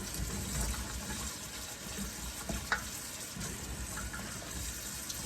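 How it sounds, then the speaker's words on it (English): Tap water runs steadily while fresh string beans are rinsed under it, a soft, continuous splashing gush with a faint clunk midway, fairly quiet and without talk. "I'm gonna take and I'm gonna wash these"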